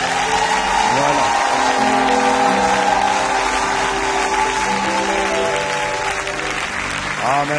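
A church congregation applauds and cheers in praise, sustained loud clapping with whoops and shouts throughout, with singing and music underneath.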